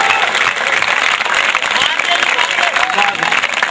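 An audience at a kavi sammelan, a Hindi poetry recital, claps steadily and densely throughout, with a voice speaking over the applause.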